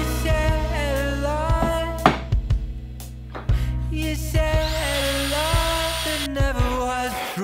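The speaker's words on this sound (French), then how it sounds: "je vais percer leurs emplacements avec une mèche de 8" A power drill with an 8 mm bit bores dowel holes in wooden pieces, its high motor whine rising and falling in several bursts separated by short pauses and knocks, close and fairly loud, with no talking.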